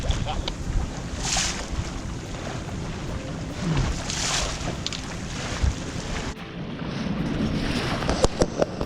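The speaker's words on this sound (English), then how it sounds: "Some big waves hitting the reef." Big waves hit the reef at Maitland Bay, heard from a dinghy as washing surf bursts under steady wind noise buffeting the microphone, moderately loud with a few swelling crashes.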